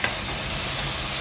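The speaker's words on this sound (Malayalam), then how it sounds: "ഇതിലോട്ട് നമ്മൾ 3 ടൊമാറ്റോ പ്യൂരി ചെയ്തത് ചേർത്ത് കൊടുക്കാം." Pureed tomato goes into hot, sizzling masala in a pan for paneer biryani, giving a steady, close, loud frying hiss with faint stirring and no voices.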